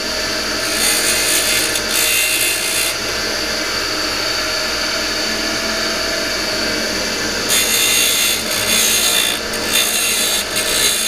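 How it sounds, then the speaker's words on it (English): Screw tips are beveled by grinding them while held in a Phillips screwdriver during a 1966 Ford Galaxie 500 convertible restoration, making a steady, loud abrasive whir and rasp that continues throughout with slight changes in intensity. "that's how I put a bevel on the screws like the original"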